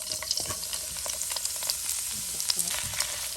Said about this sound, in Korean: 처음에 이렇게 달달 볶아줍니다